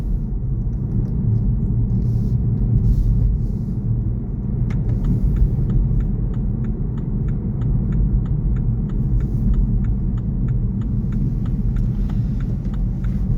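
A car drives through Colne onto Lancashire Bridge, a small humpback bridge heading toward the moors, with a loud, steady low engine and road rumble heard from inside the cabin and a faint regular ticking, likely an indicator, partway through.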